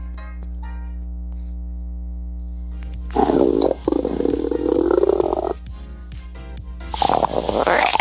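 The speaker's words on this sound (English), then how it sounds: "stomach growls, making everyone laugh" Stomach growling sound effect in a game, a loud rumbling gurgle that rises suddenly over a steady low hum, pauses briefly, then rumbles again in long bursts.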